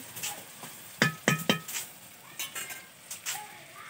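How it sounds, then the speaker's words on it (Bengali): A metal spatula strikes a kadai in a home kitchen while tomatoes fry for a chicken dish, giving a quick cluster of three sharp clanks followed by softer scrapes and taps over a faint sizzle. "এই যে খুন্তিটা কড়ায় মারলে যে হাউসটা হয় না সেটা আমার খুব ভালো লাগে"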